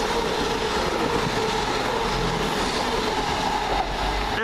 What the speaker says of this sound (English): Here comes the cross-country Stansted Express.